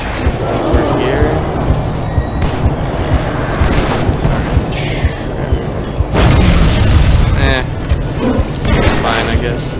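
Spike grenade explosions in Halo 3 gameplay, loud booming blasts layered over dense game noise and weapon fire, with a commentator talking throughout.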